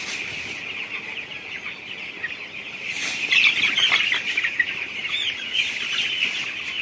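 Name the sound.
chickens clucking in a poultry shed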